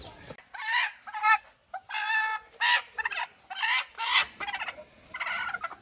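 A hen gives a series of close, clear clucking calls in short bursts with brief pauses between them, heard alone while she settles onto eggs bedded in straw for hatching.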